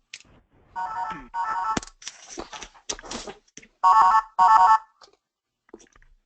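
A telephone rings in the background of an online work meeting, loud repeated electronic ring bursts separated by short gaps, with some clatter and brief voice fragments between them.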